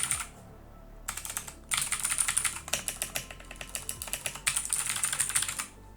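Keys clatter on a Blitzwolf BW KB1 RGB 63-key keyboard in quick bursts of close, crisp clicks, with a short quiet gap near the start and another pause midway, and no one speaking.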